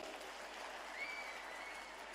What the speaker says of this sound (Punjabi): ਤਾੜੀਆਂ ਮਾਰ ਕੇ ਹੌਸਲਾ ਵਧਾ ਦਿਆ ਕਰੋ